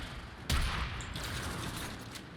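Gunfire in Warframe as zombies are shot down in a Grineer sealab, a sharp burst opening into steady, dense shooting that carries on throughout, close and fairly loud with no talking.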